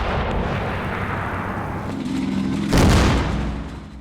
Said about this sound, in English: More mortars and tank shells fall in the village.